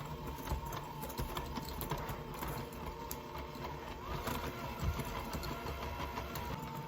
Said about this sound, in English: cream the butter and the sugars on medium speed